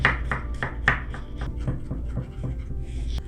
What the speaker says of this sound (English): And we're just gonna finely mince the garlic.